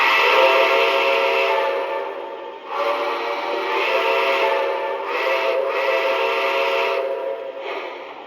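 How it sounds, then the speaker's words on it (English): A Lionel Brass Hybrid Challenger model train sounds its whistle in several loud, chordal blasts of varying length, separated by short gaps. "So here's whistle number 2 on a side note."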